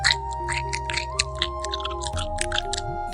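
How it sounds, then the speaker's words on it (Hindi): Wet chewing and biting noises crunch repeatedly in an animated story, something eating soft sheep in the dark, with irregular crackling bites over a low droning musical bed. "यह तो किसी के कुछ चबाने की आवाज आ रही है।"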